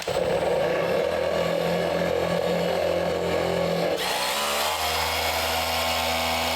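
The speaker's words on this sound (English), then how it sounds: "You're gonna clean this pad out in the pad washer, a couple sprays, right? Then you run it, Low speed" A polisher pad spins at low speed inside a pad washer, a constant motor whine layered with a rushing, scrubbing roar that shifts pitch partway through and keeps running steadily.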